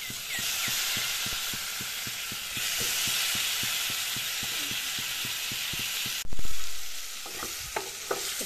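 Fish pieces hit hot oil already frying turmeric and chilli powder for a star fruit fish curry, bursting into a loud surge of sizzling after a steady stretch of sizzle and rhythmic stirring taps.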